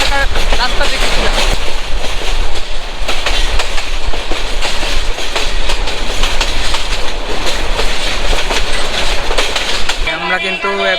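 The Mohanganj Express runs loud and close, a continuous roar of rumbling wheels and rhythmic clickety-clack on the rails, heard from on board with no clear speech.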